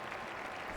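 Steady crowd roar at an Australian football match, a broad continuous wash of noise like distant cheering and applause, fairly faint and unbroken throughout.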